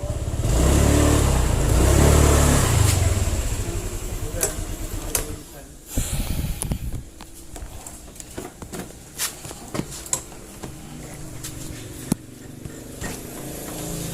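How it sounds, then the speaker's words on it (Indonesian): A Honda Vario 125 scooter engine is throttled and stutters before pulling, with loud uneven revving at first, then a quieter idle with clicks and knocks while a person talks. "Di gas dia nggak langsung jalan, dia nunggu berebet dulu baru langsung tancap cepat."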